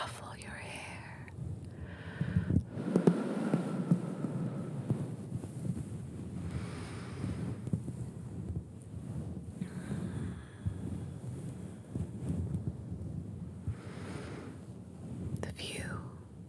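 Wind gusting across a seaside observation deck high above the Mediterranean, a steady low rush with soft swells, heard close against the microphone with faint whispering layered over it throughout.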